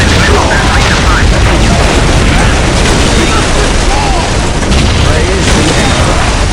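A Whirlwind missile battery artillery tank firing in Warhammer 40k Dawn of War, a loud continuous roar of launches and explosions with no pause, voices speaking over the din.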